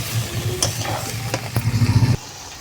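Vegetable curry of cauliflower and potato sizzling in a pan right after a splash of water goes in, a hissing bubbly crackle with stirring scrapes, growing louder before cutting off abruptly.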